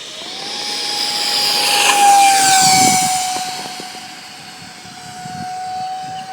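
A Hobby King T-45 EPO radio-controlled model jet with an electric ducted fan flies past at high power, its steady whine rising and fading as it passes, loud and alone with no talking.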